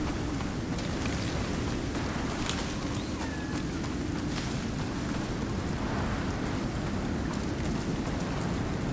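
Steady heavy rainstorm in the survival game Icarus, a dense continuous roar of rain with low rumbling thunder underneath, loud and unbroken throughout.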